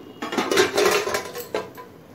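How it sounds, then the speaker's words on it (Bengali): A cooking pot lid comes off a simmering pot of water lily stems over medium flame, giving a few close metallic clinks and scrapes of the lid against the pot rim, brief and clear without talk. "7-8 মিনিট পর ঢাকাটা খুলে নিচ্ছি।"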